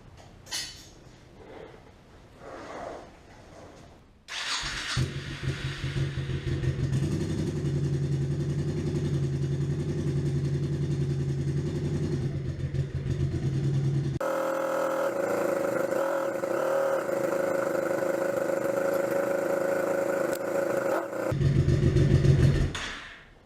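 A 2003 Honda Shadow Spirit 1100 motorcycle engine cranks and fires up after an oil change, then settles into a loud, steady, close idle with a rough low rumble, its pitch shifting partway through before briefly rising near the end.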